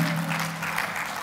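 Brief, fairly quiet applause from a church congregation during a Spanish-language service, a soft patter of clapping with a low hum underneath.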